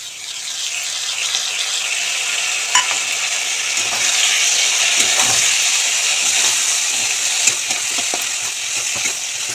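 Potatoes coated in turmeric, tomato, ginger, cumin and coriander powder with asafoetida fry loudly in a pan, a dense steady sizzle overlaid with frequent scraping stir strokes.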